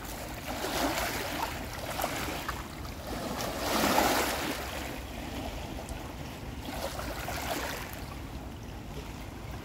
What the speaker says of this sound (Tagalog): Malakas talagang alon eh.